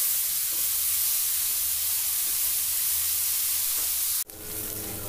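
Onions sizzling in hot oil in a pan, being fried until golden for Punjabi chicken curry, a steady loud hiss that breaks off abruptly near the end before the frying resumes more softly.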